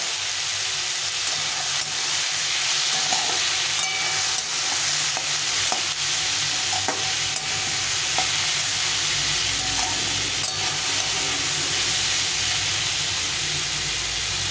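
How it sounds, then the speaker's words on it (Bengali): Fish and vegetables with turmeric powder frying in a pan give a loud, continuous hissing sizzle that holds steady throughout, with a few faint clicks of stirring and no talking. "আর হলুদ গুঁড়ো। এটা দিয়ে এটাকে ভালো করে আবার ভেজে নেব।"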